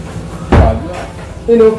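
A door at a junkshop swings shut with a single loud, close thud, and voices follow shortly after.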